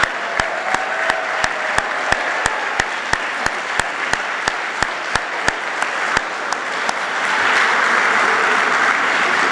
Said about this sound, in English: Would Hall of Fame members please stand up and be recognized so we can give you a round of applause